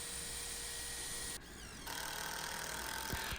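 A power drill drives a pair of screws into the wooden cross piece of an Adirondack chair footrest, a steady close motor whine that pauses briefly mid-clip, then resumes with slightly higher pitch.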